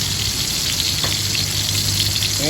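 Garlic and chili sizzle in hot oil in a pan, a loud, continuous close crackle with occasional stirring touches and no talking.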